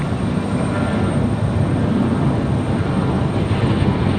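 An American Airlines Boeing 737-800 departs from Raleigh-Durham International, its engines making a loud, broad, steady roar that holds without a break.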